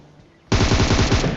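Automatic gunfire in the mobile game PUBG Mobile, a sudden loud burst of rapid shots bursting in after a quiet moment and running steadily to the end.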